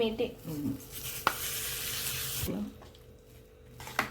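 Ghee tempering for ven pongal crackles and sizzles in a pan, close and moderate in volume, with sharp pops early on before the sizzle fades toward quiet, and no speech.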